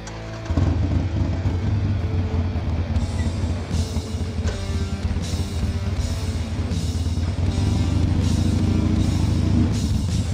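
A Harley-Davidson Iron 883 motorcycle rides along the road, its engine a steady low rumble mixed with wind and road noise, heard continuously and fairly close throughout with no talking.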